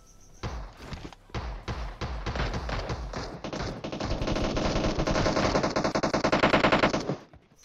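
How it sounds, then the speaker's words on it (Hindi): Rapid bursts of automatic gunfire in the game PUBG Mobile rattle close by, starting in short volleys and building into a long, continuous stream before cutting off. "अब गोलियां इधर तोड़ फोड़ के चल रही है"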